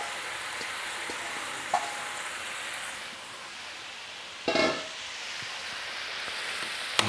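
A large batch of radicchio leaves sizzles in a pan with pancetta, a steady, fairly loud frying hiss with a brief burst partway through as the leaves settle, and no voices.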